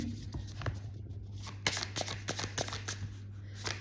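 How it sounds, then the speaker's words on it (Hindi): A tarot deck being shuffled by hand, then three cards drawn. A steady run of close, crisp riffling card flicks sits over a low constant hum, with no voice. "3 कार्ड मैं लेने वाली हूँ।"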